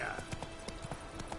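Quick, evenly spaced hoofbeats from Roach, the player's horse in The Witcher 3 video game, galloping close and clear in a short burst over faint background tones.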